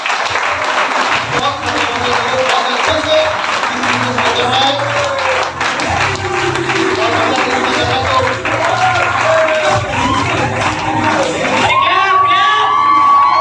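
Crowd applause with cheering and children's shouts fills a Smart Value training event hall in Belagaum, Karnataka, loud and steady throughout, with a voice talking over it and a whistle-like whoop near the end.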